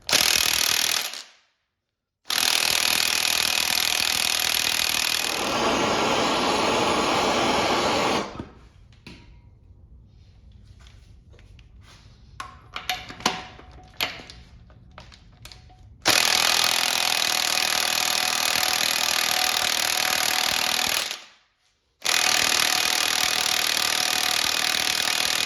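Power tool spinning off stock 24 mm front cover bolts on an LS 5.3 engine: loud, close impact bursts of several seconds each, separated by pauses with clinks and rattles of bolts and tools.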